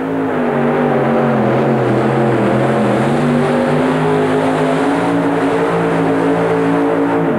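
A loud, heavy modified pulling-tractor engine roars steadily throughout at an indoor tractor pull, its pitch shifting slightly as it labors under strain, with no voices.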